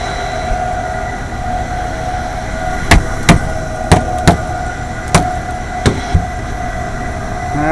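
An AAON 5-ton HVAC unit's fan motor with worn bearings runs with a steady droning hum and a faint whine, broken by about eight sharp, irregular knocks and clicks over the last half.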